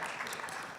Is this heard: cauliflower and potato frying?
no